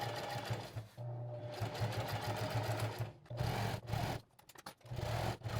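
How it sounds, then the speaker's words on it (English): Sewing machine stitching loop Velcro onto a tactical chest rig, a close, steady mechanical whir in several runs broken by brief pauses. "we're going to sew it in the exact same way as the hook Velcro"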